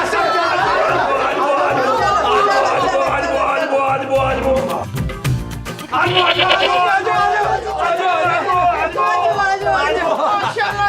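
A male goat bleats amid dense, loud chatter of people talking over one another, its calls partly buried in the crowd noise.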